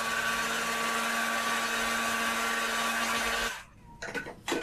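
A heat dryer blows over screen-printed ink on fabric with a loud, steady whirring hum that cuts off abruptly, leaving a few short clunks and handling noises.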